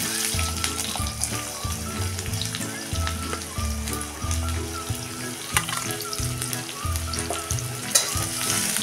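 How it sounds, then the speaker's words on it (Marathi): Onion frying in hot oil with mustard seeds and cumin gives a steady, close sizzle that runs throughout, broken by occasional stirring scrapes and light clinks. "आता तेल गरम झालंय, त्यामध्ये टाकूया हे छोटा अर्धा चमचा मोहरी, छोटा अर्धा चमचा जिरे, आणि हा कांदा आपण भाजायला टाकणार आहे"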